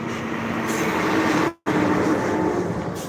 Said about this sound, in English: I'm on the highway, so forgive me if you are seeing and hearing noises